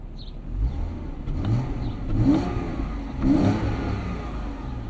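A 2009 Porsche Cayman S 3.4-liter engine revs up and settles twice, a mid-pitched rumble swelling and easing over steady idle noise, close by.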